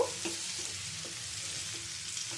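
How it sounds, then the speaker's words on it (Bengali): Pitted dates are stirred in hot mustard oil with spices, making a quiet, even sizzle broken by light, regular spoon clicks against the pan, with no one talking. "খেজুরটা দিয়ে এর মধ্যে একটু নেড়ে ছেড়ে নেব"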